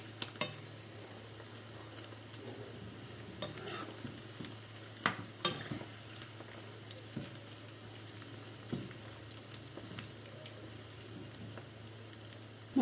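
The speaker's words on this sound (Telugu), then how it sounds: "గోల్డెన్ బ్రౌన్ కలర్ వచ్చే వరకు వీటిని మనం ఫ్రై చేసుకోవాలి" Potato pieces deep frying in oil for Aloo 65, a continuous soft bubbling sizzle with occasional stirring scrapes and light clinks, no voices.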